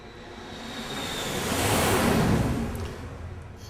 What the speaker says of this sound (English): There's the stereo airplane file.